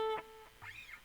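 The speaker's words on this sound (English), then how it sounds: "So the delay sounds like this." A guitar note from the hymn A Mighty Fortress Is Our God rings out with a faint, barely-there delay, a quick soft echo trailing behind the decaying tone, played alone and fairly quiet.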